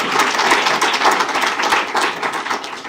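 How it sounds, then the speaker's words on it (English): Steady, dense applause from an audience at a press conference, continuous clapping filling the room at even loudness for the whole stretch with no voice over it. "you can clap for that"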